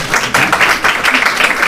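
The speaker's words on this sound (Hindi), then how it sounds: "इनके लिए तो तालियां बजाई दो" A short, close burst of audience clapping at a spiritual talk, with quick, uneven hand claps lasting under two seconds.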